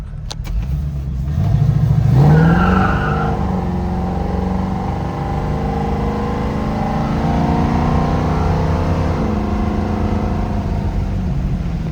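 A pink 1970 Dodge Challenger with a full rotisserie restoration accelerates down the highway toward 70 mph, its engine climbing in a loud, steady rev and then holding a constant cruising drone, with no talk over it.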